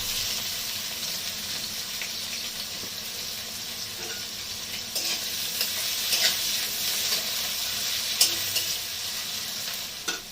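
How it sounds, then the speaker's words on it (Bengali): Chopped onions added to hot oil with tempered spices for a Bengali pabda fish curry, a continuous sizzle under repeated stirring and scraping strokes, no talk. "এর মধ্যে দিয়ে দেবো যে পেঁয়াজগুলোকে আমি কুচিয়ে রেখেছিলাম সেইগুলোকে আমি দিয়ে দিচ্ছি"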